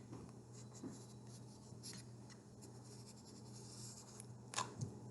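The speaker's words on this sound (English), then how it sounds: "put it on the bottom of my paper and then just trace carefully around it" A pencil traces around the base of a cylinder on paper, giving a very faint, steady scratching and rubbing close by with no talk.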